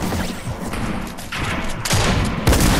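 Gunfire in the Fortnite video game fills the clip with dense, continuous volleys and heavy booming impacts that grow louder toward the end.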